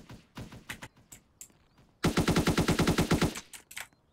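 Rapid automatic gunfire in the video game Salvage, a loud sustained burst of about a dozen evenly spaced shots after a few scattered shots and quiet sounds.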